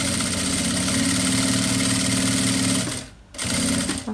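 A sewing machine stitches a shoe organizer bag with a steady, close mechanical whir, stops for a brief moment near the end, then starts again.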